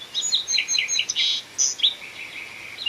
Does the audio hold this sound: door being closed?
no